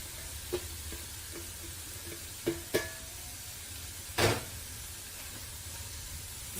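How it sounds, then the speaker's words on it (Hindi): Cabbage and vegetables frying in a pan for vegetable rice: a steady low sizzle with a few sharp stirring scrapes and one louder burst of hissing, no talking. "इसको भी 1-2 मिनट के लिए फ्राई करेंगे।"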